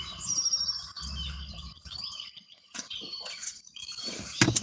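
Pet birds chirping in quick, high, bright bursts, scattered across a few seconds with low background rumble and household noise.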